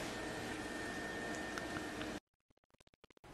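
A pot of bone marrow fat boils with a steady, hissing bubbling for about two seconds, then cuts out to faint, rapid ticking pops.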